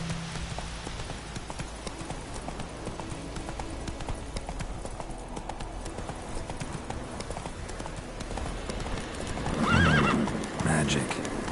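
Roach, the horse in the video game The Witcher 3: Wild Hunt, gallops with steady clip-clop hoofbeats and whinnies loudly near the end, under a continuous game score.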